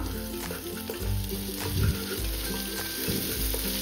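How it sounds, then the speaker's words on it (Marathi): A paste of ginger, garlic, green chili and coriander sautés with onion and tomato in hot oil for a mixed Bhogi vegetable dish, sizzling steadily throughout with a few louder stirring bursts near the middle. "आता ही पेस्ट थोडी परतून घेऊयात"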